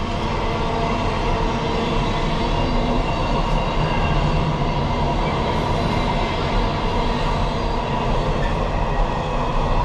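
A train passes beside a canal boat mooring, a loud, continuous rumble of rolling wagons with faint rail clatter that stays steady throughout, with no talking.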